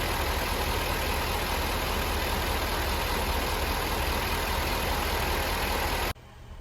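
A Land Rover LR4 engine runs steadily after a timing chain job, a dense, even drone at constant loudness that cuts off abruptly near the end, leaving faint quieter noise.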